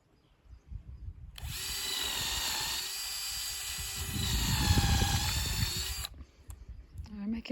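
Power drill running during renovation of an old farmhouse in central Portugal, a loud steady whine lasting several seconds with a pitch shift partway through, stopping abruptly, while people talk nearby.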